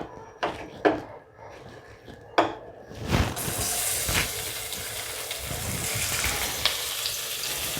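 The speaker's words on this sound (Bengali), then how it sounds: "চিংড়ি মাছ ভাজার জন্য আর একটা কড়াই আমি বসাবো আমি অল্প তেল দিলাম" Shrimp fry in a little oil in a kadai. A few hard knocks and clatters come first, then a loud, steady sizzle starts abruptly and continues to the end.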